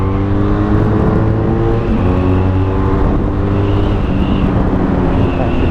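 A BMW F800R motorcycle with an Akrapovic exhaust rides on a road with a loud, continuous engine drone, its pitch rising and falling through gear changes and throttle, close and constant throughout.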